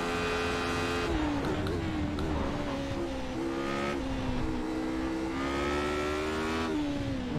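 From onboard a Radical SR8 race car at Silverstone, a loud, continuous engine note climbs steadily in pitch, breaks at upshifts about every three seconds, and climbs again as the car accelerates hard.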